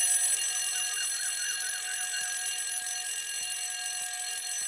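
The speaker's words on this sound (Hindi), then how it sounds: "ये अलार्म अपनी बेटी को उठाने के लिए लगाया है या पूरे मोहल्ले को?" An alarm clock ringing at night in a home, a loud continuous electronic trill with a wavering pulsing tone that carries on steadily without pause.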